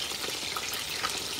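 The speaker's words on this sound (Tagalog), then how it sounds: "nagluto ako ng isda, nagpinirito" Fish frying in a pan gives off a steady, soft sizzle, a continuous bubbling hiss with faint crackles and no talk over it.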